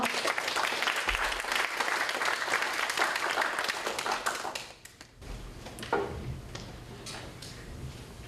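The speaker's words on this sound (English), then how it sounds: "Please give her a round of applause." Audience applause at an academic panel session on US-Vietnam relations, a dense burst of many hands clapping that fills about five seconds, then fades into room noise and a few scattered sounds.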